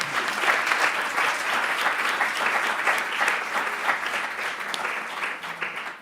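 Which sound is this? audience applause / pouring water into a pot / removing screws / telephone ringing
audience applause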